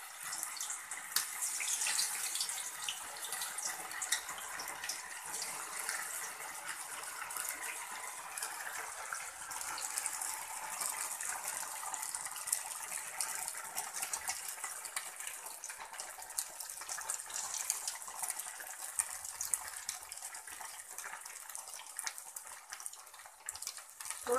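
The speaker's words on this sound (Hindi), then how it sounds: "ये देखिए हमारा तेल गर्म हो चुका है। अब इसमें धीरे धीरे करके हम एक एक टिकिया डालेंगे।" Semolina tikkis frying in hot oil give a steady, soft, bright sizzle that hisses on evenly throughout, with no voices.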